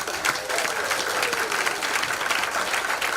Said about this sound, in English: serve up a warm round of applause for our young sports personality